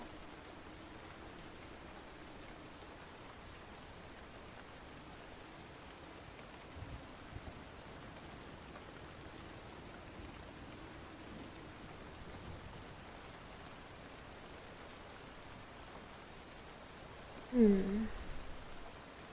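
Steady, soft rain falling continuously as a quiet background hiss, with a faint brief sound near the end; no talking.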